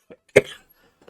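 A single short, sharp cough up close, with a faint breathy sound before it and a tiny trailing sound after, otherwise quiet.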